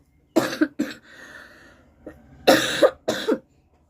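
A person coughs in short bursts: two quick coughs, a brief breathy pause, then two more harsh coughs, close to the microphone.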